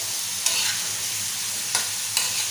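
Prawn masala fries on a hot tava with a steady soft sizzle, while a spatula scrapes and stirs in three brief distinct strokes, close and alone without talk.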